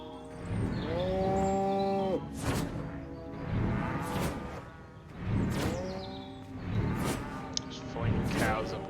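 Cows in the video game Destroy All Humans! give repeated drawn-out moos, several calls spaced across the stretch amid whooshing game effects and a voice talking underneath.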